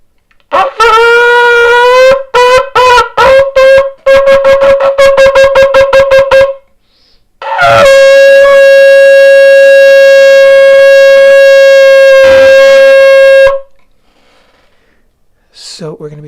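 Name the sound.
shofar being blown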